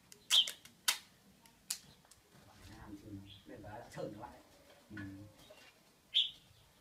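Caged red-whiskered bulbuls give a few sharp, bright chirps and calls at the start and again near the end, with people talking close by in between.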